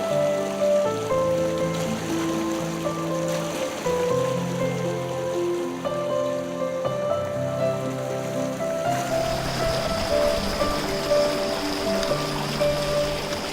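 A forest stream in the Western Ghats near Surla, Goa, that feeds the Khalsa waterfall, rushing in a steady close wash of water beneath layered background music.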